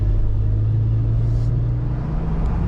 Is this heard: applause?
no